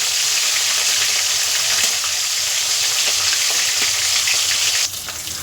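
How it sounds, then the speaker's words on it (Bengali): Two shrimp heads frying in well-heated oil in a pan make a loud, continuous hissing sizzle. It drops noticeably in strength near the end. "মাছের মাথা দুটো উল্টে কালটা ভালো করে ভেজে নেবো"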